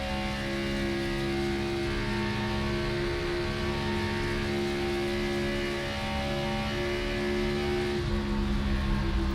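A stock car engine in a NASCAR racing video game at Kansas, droning steadily with throttle feathering and a layered tonal hum that barely varies, loud and continuous throughout, with no talking.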